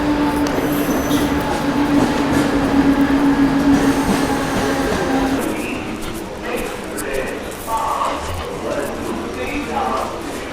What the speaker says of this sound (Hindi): भाग करके मैंने फास्ट लोकल तो पकड़ ली है